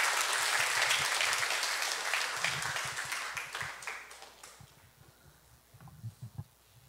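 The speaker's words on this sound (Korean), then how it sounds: "나오실 때 박수로 환영해 주시기 바랍니다." Loud applause from a church congregation at a Friday evening evangelism meeting in Daegu, South Korea, fills the first few seconds, then gradually thins and fades to a few scattered claps and quiet murmurs.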